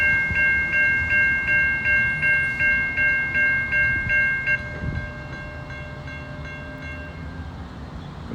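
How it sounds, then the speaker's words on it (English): Model train horn blasts sound in a rapid series of long pulses, then fade as the rumble of a passing street-running train with three locomotives and about ten cars continues at a distance. "Here comes the train."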